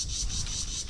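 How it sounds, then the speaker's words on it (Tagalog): A steady, pulsing chirp of crickets fills the air, high and continuous, with no voices present. "Pasensya na po sa huni ng kuliglig. Maingay."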